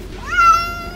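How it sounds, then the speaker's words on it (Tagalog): A Persian cat gives a single rising-then-falling meow, close and clear over a faint background hum, lasting under a second with no speech. "Ang Persian ba kuya, bihira talaga mag-meow?"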